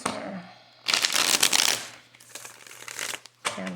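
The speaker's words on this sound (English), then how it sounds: "Let's do 3 more shuffles." Oracle or tarot cards are shuffled up close in a few quick, papery bursts, with a faint low hum underneath.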